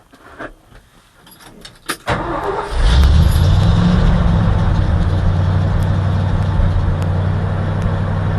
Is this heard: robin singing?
no